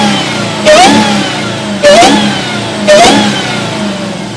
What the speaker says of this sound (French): pour entendre la sonorité du véhicule, il faut passer à l'avant et non à l'arrière, pour entendre le compresseur, parce que tout vient du compresseur